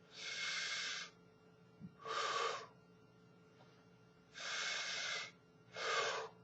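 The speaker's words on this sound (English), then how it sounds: "You want to breathe in and, hold on. Breathe in." A singer's deep diaphragm breaths drawn in and pushed out during a breathing exercise, four airy hissing breaths in a slow even rhythm, close and fairly quiet, with a faint click between the first two.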